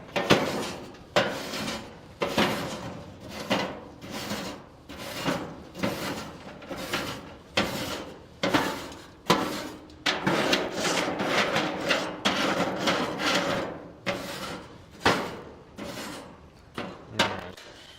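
Metal scraper dragged across an outdoor grill's grates after cooking, a steady series of rough, rhythmic scraping strokes repeated close up for about eighteen seconds, with no talking.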